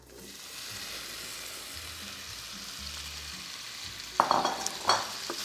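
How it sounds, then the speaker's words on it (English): Tomatoes stirred into softened garlic in a hot frying pan give a steady, moderate sizzle, then a few sharper spoon-and-pan clatters near the end. "the garlic is starting to soften up, and now we're gonna add our tomatoes"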